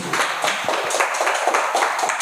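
Audience at an anti-drug awareness event clapping together in a steady burst of separate, fairly close hand claps that runs without a break from start to finish.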